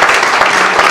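Loud audience applause at an evening couples' celebration event, dense continuous clapping filling the whole moment with a few sharper claps standing out.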